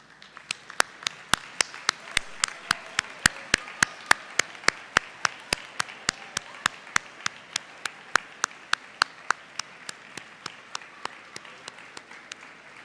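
Graduates at a university commencement ceremony give a standing ovation, though only a sparse, steady run of individual sharp claps is heard, fairly faint and echoing in a large hall, with no talking over them.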